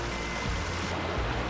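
Creek water rushing over rocks at a hiking trail crossing, a loud, close, continuous wash of flowing water with no voices.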